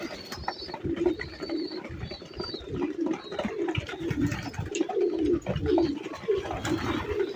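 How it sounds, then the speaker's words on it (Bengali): Racing pigeons at a loft coo over and over in soft, throaty bursts close by, with a bird's faint chirps now and then above the steady cooing. "এই যে বাকি একটা কবুতর আসছে"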